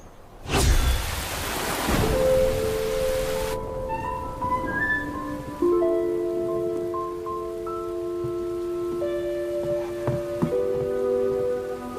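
A loud thunderclap breaks out, then steady rain hisses on while soft, sustained musical tones rise beneath it.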